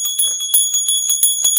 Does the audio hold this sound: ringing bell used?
yes